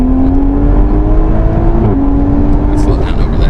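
A Toyota Supra 3.0 accelerates hard in a full-throttle pull, its engine note climbing loud and steady from inside the cabin, with a brief dip at a gear change before it rises again.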